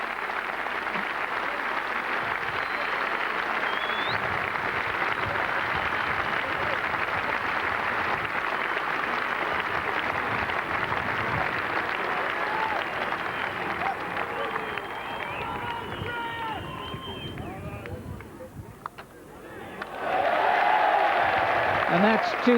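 A cricket crowd at a Trent Bridge England v West Indies test match in 1991 applauds, a sustained wash of clapping and cheering held for many seconds, dipping briefly near the end before swelling again, with commentary voices underneath.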